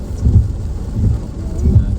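Rain falls steadily at Jam Gadang, a dense, loud wash with low rumbling swells that could be thunder or passing gusts, continuous through the short moment with no talking.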